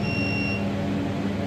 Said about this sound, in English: when the device is out of its range, the device will give you the alarm of the sound